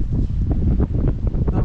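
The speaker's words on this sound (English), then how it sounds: "And it's very windy and it's cold." Gusty wind buffets the microphone in rough, rumbling bursts, loud and close throughout.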